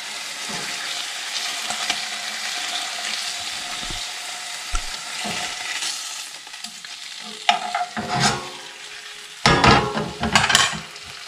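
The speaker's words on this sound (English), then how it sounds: "we're going to flip this trout." Rainbow or brook trout frying in oil and butter in a pan, a continuous sizzle broken by scraping and stirring clatter as the fish is turned, with louder bursts near the end and no talking.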